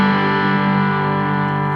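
Electric guitar chords ring through a Green on Green overdrive pedal with its Blue Side engaged, a loud, sustained, saturated drive tone that holds steady without any talk.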